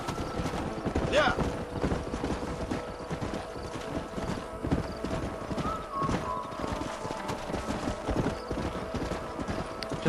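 A small herd of horses runs in the Red Dead Redemption game, a constant rapid clatter of hooves with a couple of whinnies rising over it, sustained at steady volume with no voices.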